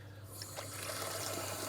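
Water runs steadily into a container for rinsing aquarium sponges, a continuous close splashing fill over a low background hum.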